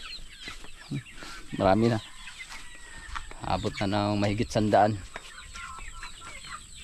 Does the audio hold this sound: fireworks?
no